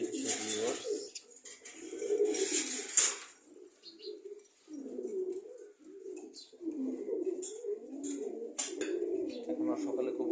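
Pigeons coo in soft repeated throaty bursts nearby, interrupted by louder bird calls, with a quiet stretch in the middle before the cooing resumes steadily.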